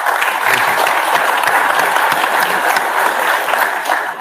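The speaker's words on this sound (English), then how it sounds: "I think that calls for an applause." Sustained audience applause at a London event promoting Andhra Pradesh, dense steady clapping filling the whole stretch at a loud, even level with no talk over it.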